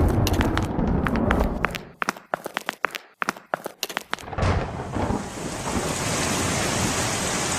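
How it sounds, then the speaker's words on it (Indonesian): Rain begins falling as storm clouds gather, with sharp cracking bursts at first, then a steady, broadband hiss of rainfall that settles in and continues evenly to the end. "Nah, hujan."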